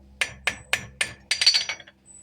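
A horseshoe nail tip is hammered on the flat side of an anvil: four evenly spaced ringing metal strikes, then a quicker burst of lighter taps, close and loud with no talk.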